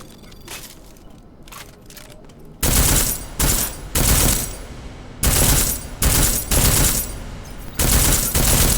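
Armor-piercing rounds fired from a gun in Deus Ex: Mankind Divided: a few faint shots, then a run of loud, close blasts in uneven bursts, each with a sharp crack and a short, heavy tail.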